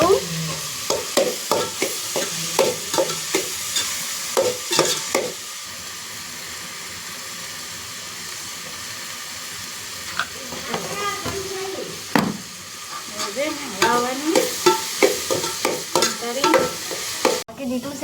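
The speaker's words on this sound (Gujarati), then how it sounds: "હલાવું." Spices with salt and turmeric stirred in a frying pan give a sizzling hiss and repeated scraping strokes, close and fairly loud, with a voice talking over parts of it.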